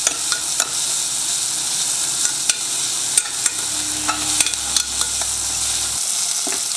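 Onions and tomatoes frying in a pan for a vegetable and mushroom kurma, a continuous close sizzle broken by repeated scrapes and clacks of a spoon stirring, with no voices.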